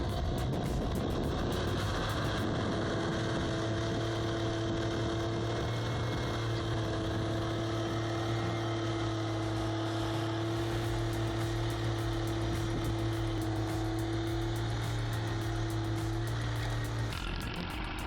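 A 20,000-pound tractor labors in mud with its rear tires spinning, a steady heavy engine drone holding a constant pitch throughout, loud and close, with no one talking.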